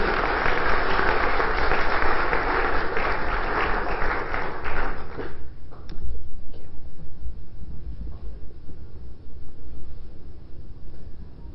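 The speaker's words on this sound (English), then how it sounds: "Let's give him a big round of applause" Audience applause at an innovation conference welcoming Scott D. Anthony to the stage, loud and sustained for about five seconds before thinning into scattered, fading claps.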